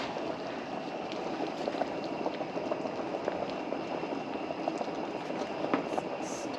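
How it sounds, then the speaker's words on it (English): Pizza chili bubbles in a pot on the stove, a soft, continuous simmering hiss with small pops and faint clinks throughout. "Oh boy, now it's boiling. Hope it doesn't boil over."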